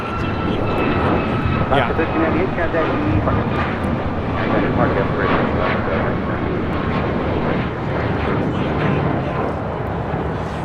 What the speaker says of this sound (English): This is Alaska Airlines 1398 taking off to Mazatlan, Sinaloa on a MAX 9.